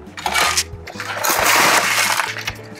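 Ice is dropped into a glass for a mint julep, clinking and rattling loudly in repeated knocks and tumbles over a few seconds.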